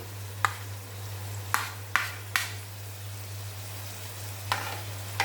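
Onion and green chilli frying in a pan for a besan onion vegetable dish, a steady soft sizzle under a constant low hum, broken by several sharp stirring clinks of a spoon against the pan.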